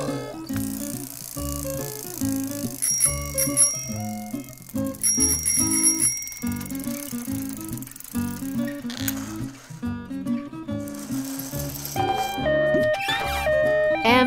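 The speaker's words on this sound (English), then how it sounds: "Bicycle." Bright bicycle bell rings chime a few times over a busy, bouncy musical backing that plays throughout.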